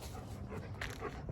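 A dog close by gives short yips and whimpering bow-wow sounds in a brief burst, overlapped by a person's voice.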